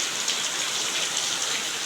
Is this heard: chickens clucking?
no